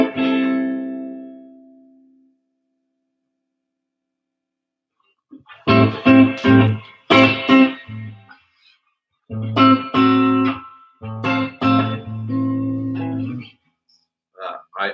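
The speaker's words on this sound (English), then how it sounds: "I'm gonna turn the reverb up on this." A live Telecaster electric guitar with heavy reverb plays short bursts of chords and notes, each ringing with a long wash of decay, separated by pauses of silence.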